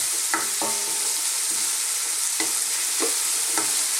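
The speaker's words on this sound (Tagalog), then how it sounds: "So, haluan ko lang siya ng miswa at patola." Leftover crab cooks with misua noodles and sponge gourd in a hot pan: a constant close sizzle and frying hiss, broken by a few soft scrapes of stirring.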